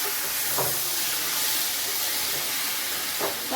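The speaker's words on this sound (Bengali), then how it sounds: "দেবো কেটে রাখা টমেটো, ভালোভাবে নেড়ে নেব।" Chopped tomatoes stirred into a pan of frying masala release a loud, steady, close hiss of steam and sizzle, with a couple of faint scraping strokes from the spoon.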